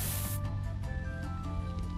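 A steady broadband hiss of spray in Scribblenauts Unlimited lasting throughout, with faint tonal game sounds layered underneath.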